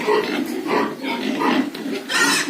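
Piglets about 80 days old in a crowded farm pen grunt and snuffle continuously, a close, busy chorus of overlapping oinks with a louder squeal near the end.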